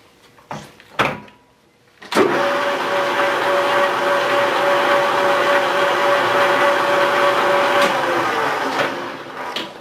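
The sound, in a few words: metal lathe running, turning a bronze casting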